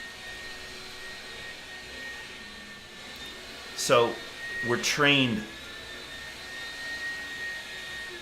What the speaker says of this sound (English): A vacuum just started.